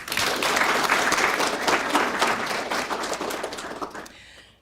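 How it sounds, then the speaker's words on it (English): Loud, dense applause from an audience at a probation officer transfer academy graduation, sustained clapping that thins out and stops abruptly near the end. "Once again, let's give them all a round of applause."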